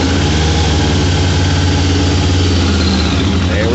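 A 1998 Suzuki Katana motorcycle engine idles right after being started without choke, a loud, close, steady rumble that runs evenly the whole time.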